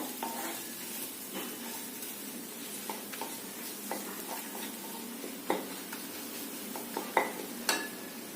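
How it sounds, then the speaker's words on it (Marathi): Coriander powder and chilli masala frying in oil in a pan for a spinach dish: a soft, steady sizzle broken by intermittent spoon scrapes and light clinks. The sound is close, with no voices. "एक चमचा धने पूड तेलात खमंग परतून घ्यायचा मसाला"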